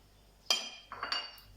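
Nuts and raisins tipped into a mixing bowl while making a sweet, giving a sharp clatter followed by a few lighter clinks against the bowl in a quiet kitchen.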